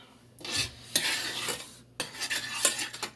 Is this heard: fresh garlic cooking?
yes